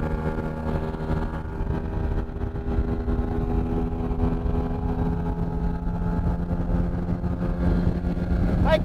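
An engine runs steadily while Sea Foam fuel treatment is being cleaned through it, a continuous low droning hum with stable harmonic tones, loud and close, rising slightly near the end with no speech.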